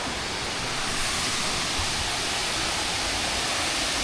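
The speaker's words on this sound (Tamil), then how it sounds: "கீழே வந்து நமக்கு அந்த வாட்டர் ஃபால் வந்து தண்ணி போயிட்டுருக்கு" Rushing water roars in a steady, dense wash of noise from a waterfall in Bali heard up close, with no voices or breaks.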